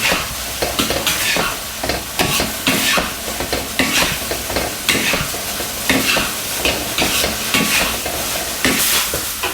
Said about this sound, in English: Turn up the heat to create the wok aroma. And keep stirring and flipping to avoid sticking.